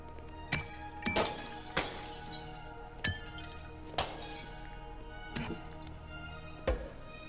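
Glass shatters repeatedly in the video game Marvel's Spider-Man, about eight sharp crashing bursts spread over several seconds, moderately faint, with no talking.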